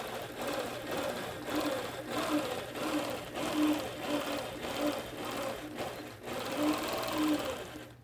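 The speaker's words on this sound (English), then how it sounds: "I will first stitch the flower and baskets, using the same thread color as the outer border and center designs." Sewing machine stitching a quilt, a rapid steady mechanical chatter with rhythmic pulses about twice a second, running continuously and close, with a faint voice talking underneath.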